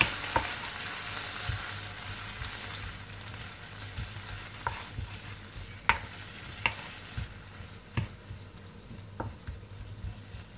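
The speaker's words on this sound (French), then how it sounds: "Je viens verser le Madère. Et je mélange." Smoked ham being stirred with Madeira wine in a pan, a steady soft sizzle with scattered scraping clicks of a spoon against the pan at irregular intervals, close and fairly quiet, no voices.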